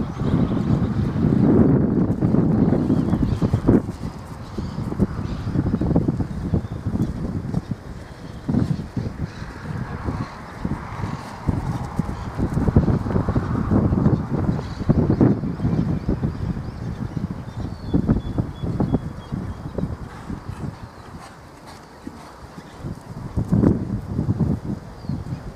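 A young chestnut Quarter Horse cross gallops in easy, rhythmic hoof beats at moderate distance, with wind noise buffeting the microphone throughout.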